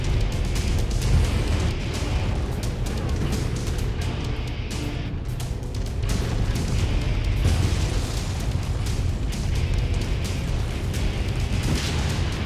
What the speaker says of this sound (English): introduce a massive volley of missiles into his back